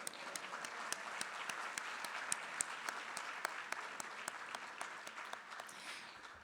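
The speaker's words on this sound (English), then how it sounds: "We can clap for them now." Audience applause for artists at an art and politics symposium, steady dense clapping from a sizable crowd throughout, fairly distant and even, with a few sharper individual claps standing out and tapering at the end.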